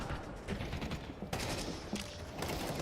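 Gunfire in a Counter-Strike esports match, the Navi versus Vitality grand final, with a few sharp shot cracks mixed into a busy layer of game noise, including one clear crack near the middle.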